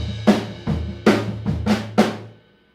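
Drums play a song intro with a left-hand lead on one drum, producing six sharp, resonant tom-like strikes in an uneven rhythm, close and clear, then decaying into silence.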